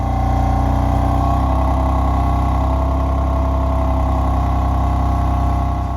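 A Jaguar F-Type engine idles steadily at close range, a low, even rumble with a slight shift in tone partway through.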